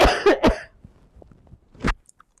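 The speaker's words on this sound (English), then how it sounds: "I'm just trying not to cough in your face." Two sharp coughs come close together right at the start, followed by quiet clicks and a third, softer cough near the end, with no talking.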